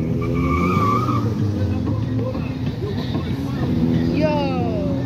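An RTR car rolling up at a car meet, its engine droning with rising whines and a brief squeal-like sweep near the end, while nearby voices carry over it.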